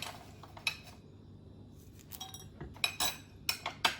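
Metal utensils clink lightly against a plate as spaghetti aglio e olio is served, a few sharp taps scattered among quiet pauses, close and fairly soft.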